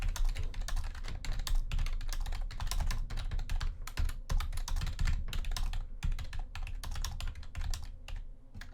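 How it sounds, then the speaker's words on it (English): Rapid typing on a computer keyboard, a dense stream of close, crisp key clicks with brief pauses, heard alone with no talking. "I'm going to type out the whole thing."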